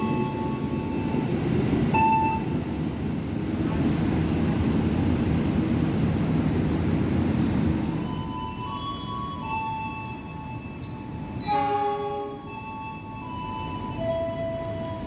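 A freight train rumbles steadily past a station at Cirebon Perujakan, loud and close, then its horn sounds in a few sustained tonal blasts as the rumble eases.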